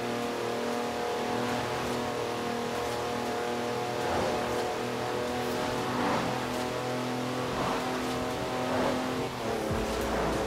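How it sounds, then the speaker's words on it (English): A four-wheel drive car on mud tires sliding sideways in Forza Horizon 4, its engine droning steadily with rising revs and faint tire scrubbing, loud and close throughout with no talking. "That's a four-wheel drive car on mud tires, completely sideways."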